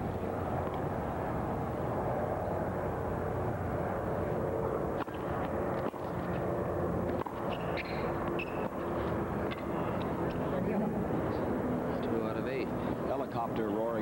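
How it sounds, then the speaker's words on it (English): A helicopter flying overhead near the Marine Corps base at 29 Palms, heard during a tennis match as a steady low rumble beneath continuous commentary. "Helicopter roaring overhead, probably on the way to the Marine Corps base at 29 Palms."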